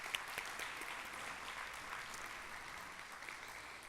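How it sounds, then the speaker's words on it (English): An audience applauds guests at an NAACP education event, a steady, even wash of clapping heard from a distance and fairly soft, continuing without a break. "Would you please, if you're here, Wale, please stand and please give them a round of applause."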